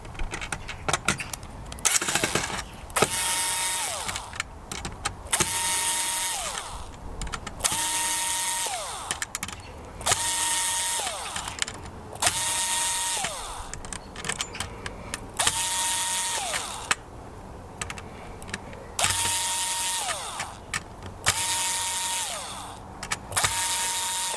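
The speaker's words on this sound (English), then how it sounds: "It's easy to do it with a power drill." A power drill undoing screws whirs in repeated short bursts, each spinning up and winding down with a steady pitch, amid rattling and clicking of loose parts.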